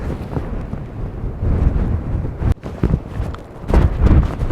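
Strong wind on a coastal path buffets the microphone in heavy, rumbling gusts. The low roar swells and dips unevenly, with a brief drop near the middle and a harder blast toward the end.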